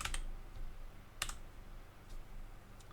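Typing on a computer keyboard while working in Bizagi Modeler flowchart software, with a few sharp, isolated key clicks and taps spread over a low background hum, no talking.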